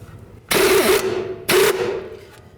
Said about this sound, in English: I'm gonna use a 16mm socket, take the nut off